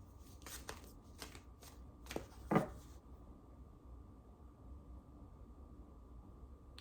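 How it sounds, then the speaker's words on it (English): Cards are riffled and shuffled in a few quick bursts up close, followed by a quiet stretch of faint room noise. "I don't know why I'm shuffling this deck"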